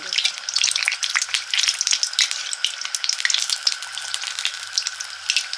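Eggplant fritters (beguni) deep-fry in hot oil, giving a dense, steady crackling sizzle with rapid bubbling pops close up and no talk over it.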